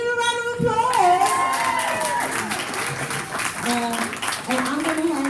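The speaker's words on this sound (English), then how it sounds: "Can we give him a round of applause?" A book launch audience claps in a lively round of applause, mixed with cheering voices and bright sustained tones, moderately loud and continuous.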